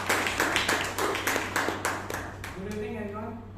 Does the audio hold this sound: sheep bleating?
no